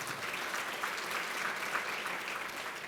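Dense crowd applause at a school academic excellence banquet fills the space, a steady wash of many hands clapping at once, fairly distant and continuous throughout.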